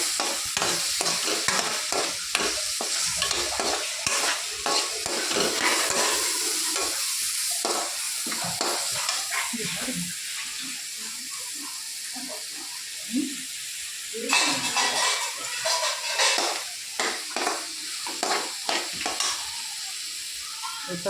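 Onions sautéing in oil for onion chutney, a dense close sizzle with constant spatula stirring and scraping in quick irregular strokes, loud at first and easing slightly midway before picking up again, without talking.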